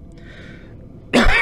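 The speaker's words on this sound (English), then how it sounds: "How long have you had that cough?" A single sharp cough bursts out after a moment of near silence, close and loud.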